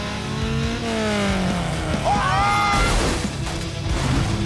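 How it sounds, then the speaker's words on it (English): Cars racing across desert sand dunes in a film chase scene, engines revving and whining in rising sweeps with a crash-like clatter, loud and close. "they're really racing those cars around"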